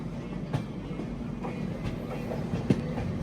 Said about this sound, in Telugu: ఆ ట్రైన్ ఏంటో తెలుసా? ఖజురహో జంక్షన్ నుంచి ఉదయపూర్ సిటీకి వెళ్ళే ట్రైను.